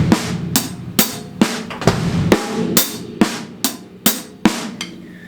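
A drum kit plays a sextuplet shuffle groove with ghost notes, crisp loud accented snare and cymbal hits over quieter in-between strokes in a steady rolling loop, close and with no voice.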